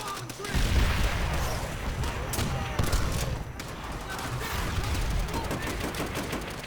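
Gunfire in the World War II shooter game Call of Duty: World at War: dense, continuous battle noise with bursts of shots and rumble, with a voice reacting over it.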